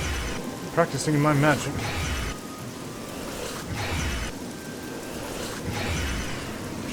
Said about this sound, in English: Standing out here in the rain